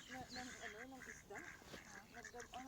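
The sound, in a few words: ducks quacking at a pond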